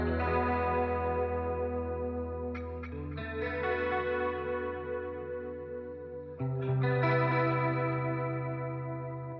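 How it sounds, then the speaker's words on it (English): Electric guitar drowned in a Logic delay preset plus extra echo, sustained chords ringing and smearing into long repeating tails, with a new strum around the middle swelling back up, loud and alone. "I just have just the guitar completely drowned in delay"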